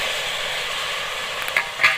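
Eggs going into a thick spiced gravy in a pan, giving a loud, even hiss of sizzling throughout, with a couple of brief clinks of utensils toward the end and no voices.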